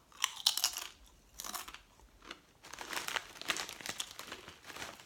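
Funny Frisch salt & vinegar kettle chips, thick-cut, crunched close up in a series of loud crisp bites and crinkles, chewing bursts spread across a few seconds with no talk.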